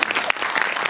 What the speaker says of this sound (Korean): 윤광 감독님께 박수 한번 부탁드립니다